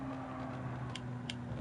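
A race car brakes hard in Gran Turismo Sport, with a quiet, steady engine drone and a faint strained tyre tone, plus two brief sharp ticks near the end.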